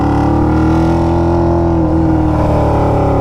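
A 600cc go-kart engine with short straight headers cut at the collector runs loud and close, a sustained throaty drone that holds steady then shifts pitch slightly as revs change.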